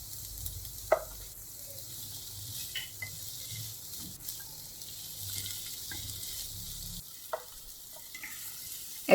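Boiled chickpeas frying in a pan, a quiet steady sizzle with a few occasional stirring clicks and scrapes, close and faint.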